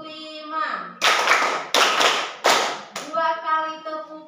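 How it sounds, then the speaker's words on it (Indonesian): A classroom of students does a counted clapping ice breaker, loud group claps landing in separate bursts that get longer as the count rises, with a teacher's voice calling between them. "Tepuk 1, tepuk 2, tepuk 3, tepuk 4, tepuk 5,"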